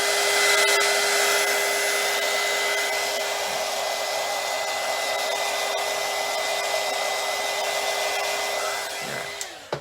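A hair dryer blows steadily and loudly near the mic to dry a craft tumbler, a constant whooshing roar with a high whine that holds for almost ten seconds before cutting off at the end.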